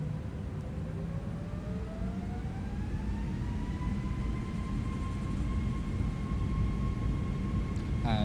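The engines of an Airbus A321 in a flight simulator spool up for takeoff on the runway. A steady roar carries a rising whine that climbs in pitch and then levels off, loud and continuous, with no talk over it.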